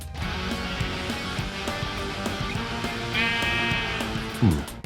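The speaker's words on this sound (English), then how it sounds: "Suddenly I heard a sheep." A sheep in the Minecraft video game bleats once near the end, a short wavering baa heard over steady in-game background sound and some thumping footsteps.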